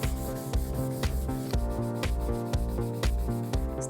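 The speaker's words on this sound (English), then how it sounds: "It's out with the sandpaper and the elbow grease." Sandpaper worked by hand scrubs an orange-tinged wood veneer finish in rhythmic back-and-forth strokes, close and steady, about two strokes per second.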